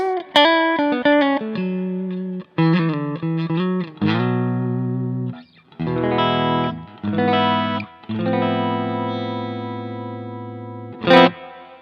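An electric guitar played through a BluGuitar AMP1 with subtle, long-decay reverb rings out in a sequence of sustained chords and single notes, with short gaps between phrases and a sharp pick attack near the end, alone without talk.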